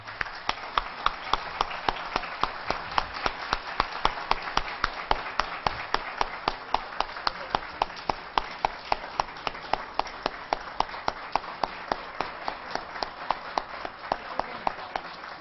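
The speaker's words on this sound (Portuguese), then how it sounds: "essa salva de palmas vai para o senhor" Rhythmic round of clapping in a municipal council chamber, sharp evenly spaced claps in steady tempo, fairly faint and continuous for the whole stretch.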